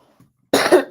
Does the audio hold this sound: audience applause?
no